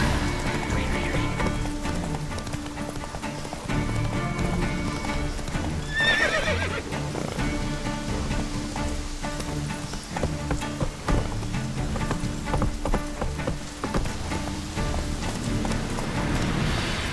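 Horse hooves clip-clop at a gallop in The Witcher 3, with whinnies and neighs mixed in, loud and continuous over a dense game soundtrack and ambience throughout.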